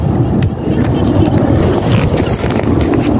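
A large kite caught in the wind makes a rough, rapid flapping rustle, close and loud, over steady wind buffeting.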